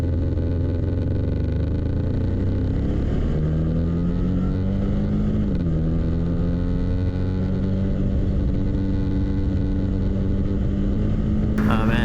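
A 2015 Can-Am Spyder RS-S three-wheeler takes a corner, its engine droning loud and steady with a pitch that climbs, dips and settles, while wind and road rumble run underneath; a voice speaks over it.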